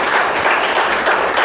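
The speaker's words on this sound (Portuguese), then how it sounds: "Quem crê pode aplaudir e glorificar." Congregation applauding during a church service, a steady dense wash of many hands clapping at once, loud and continuous without pause.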